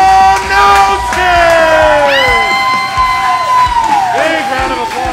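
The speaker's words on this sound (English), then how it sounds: "Big round of applause for Mike." Loud arena crowd cheering and whooping for the defending movie trivia Schmoedown Innergeekdom champion, with shouts and an announcer's voice over the steady roar.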